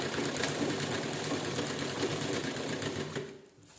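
A sewing machine stitches a door mat made from fabric scraps, running in a steady rapid rattle up close before slowing and stopping near the end; no one speaks.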